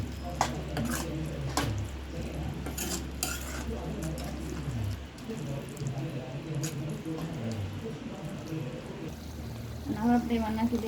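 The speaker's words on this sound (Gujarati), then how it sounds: "આપણે આ પનીરને પાલક હારે મિક્સ કરી દઈએ" Paneer and spinach stirred together in a pan for palak paneer bhurji, with spoon scraping and clattering against the metal, a faint sizzle underneath and a voice talking throughout.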